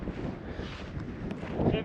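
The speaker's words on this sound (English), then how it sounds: "It's so windy." Strong wind buffets the microphone on a steep grassy mountain hike in Montenegro, a steady close roar with gusting swells, and a voice is faintly heard under it.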